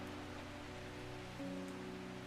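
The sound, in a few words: rain in video game Strange Horticulture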